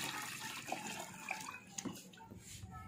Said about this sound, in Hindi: इसमें डाल रहे हैं पानी।